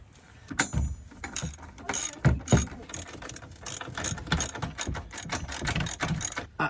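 Ratchet clicking in short bursts while tow hitch bolts are tightened on the chassis of a 2016 Hyundai Tucson, close and fairly loud, with rapid pawl ticks and brief pauses between strokes.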